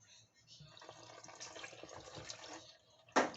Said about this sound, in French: Donc on va venir mettre de l'eau froide.